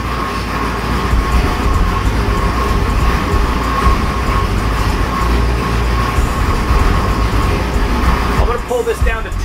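A Ford Windsor 440 small-block V8 with individual-runner intake runs on a dyno, held near 2,000 RPM: a loud, steady, continuous roar throughout, with someone talking over it.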